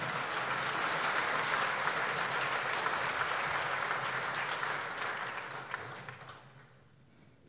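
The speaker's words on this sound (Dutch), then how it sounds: "een warm applaus voor Michael Bachman." Audience at a business event in Veenendaal applauding an award winner called to the stage, sustained dense clapping that holds steady, then fades away over the last couple of seconds.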